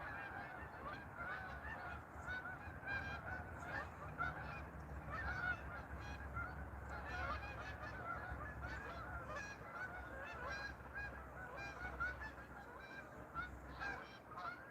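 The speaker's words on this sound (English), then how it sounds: "There's the geese." Geese honk repeatedly near a bass pond by a creek, a steady chorus of calls at moderate distance over a low rumbling outdoor background.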